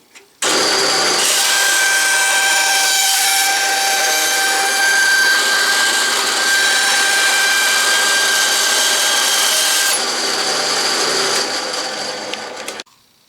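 A power saw cuts straight through 1/8 inch aluminum plate in one loud, steady run of about nine seconds with a shrill metallic whine. The motor spins up at the start and winds down at the end.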